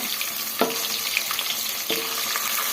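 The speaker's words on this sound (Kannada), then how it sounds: "ಈ ಥರ ಕೆಂಪಗಾಗೋವರೆಗೂ ನಾವು ಫ್ರೈ ಮಾಡ್ಕೊಬೇಕು" Food fries in a pan until reddish and crisp, giving a steady broad sizzle with two brief scraping stirs of a spatula, close and fairly loud, with no voices.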